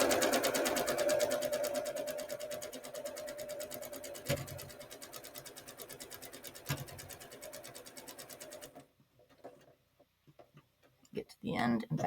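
A sewing machine stitches a quilt block with side setting triangles, a rapid, even ticking run that stops after about nine seconds, followed by quiet handling sounds and a brief voice.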